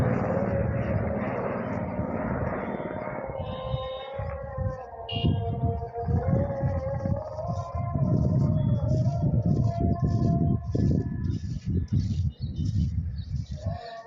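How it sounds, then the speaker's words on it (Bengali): A helicopter passes over a snowy area, its rumbling, pulsing rotor noise swelling louder toward the end, with tonal whines and faint chirps over it. "এই হেলিকপ্টার যাচ্ছে।"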